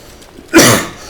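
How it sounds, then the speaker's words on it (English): One short, harsh cough bursts out close to the mic, loud and sudden, then trails off in a breathy tail, with no talk over it. "I keep coughing"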